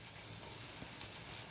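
Ghee hisses and crackles in a hot pan while a Bengali thor ghonto simmers, a steady, dense sizzle that stays even and close throughout with no voices.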